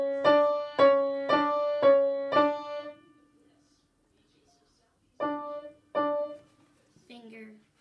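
A piano plays a short self-composed tune, five evenly spaced notes followed by a pause and two more, each ringing out clearly and alone with a brief voice at the end.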